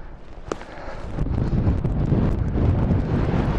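Strong wind gusting across a mountain-top campsite, a steady rushing roar that swells louder after the first second and buffets the microphone, with one brief click near the start.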